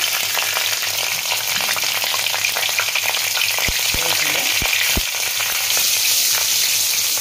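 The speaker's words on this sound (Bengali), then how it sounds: "কালো জিরে দিলাম, কাঁচা লঙ্কা দিলাম ফোড়ন" Black cumin and green chillies crackle in hot oil as a tempering for shorshe ilish, making a loud, busy sizzle with sharp pops and a few distinct knocks midway.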